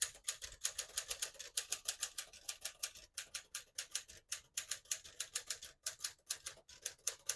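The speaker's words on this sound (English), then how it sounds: "I'll type a sentence on this next line." Keys clack in a brisk, uneven rhythm as a sentence is typed on a 1951 Smith-Corona Silent portable typewriter, close up and alone, with a few brief gaps between words.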